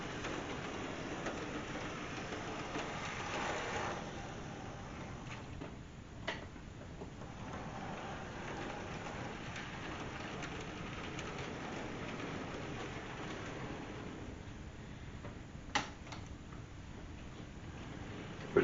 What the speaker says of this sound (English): switcher locomotive. The more it moves, the better it starts running.